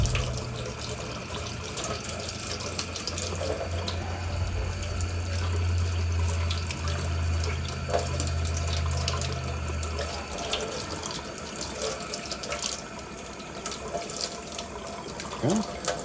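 Hot water runs from a tap into a sink during breakfast cleanup, a steady full-bodied splash lasting throughout with a faint low hum in the first part and no voices.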